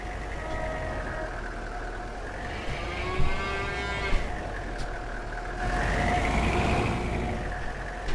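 Cows mooing inside a cow barn in Farming Simulator 22, long drawn-out lowing calls that rise and fall over a steady farm and engine hum, several overlapping moos close by with no talking.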